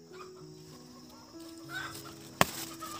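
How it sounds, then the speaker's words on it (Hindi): Chickens cluck and a hen squawks in a yard in rural Northeast India as a dog chases her, with a sharp loud burst of commotion partway through over quieter background clucking. "ये कुत्ता मुर्गी भगा रहा है।"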